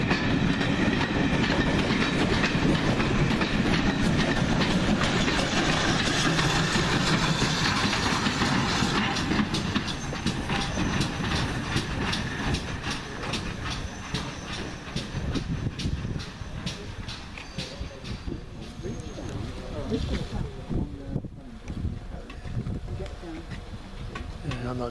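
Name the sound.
locomotive hauling demonstration freight train at Tyseley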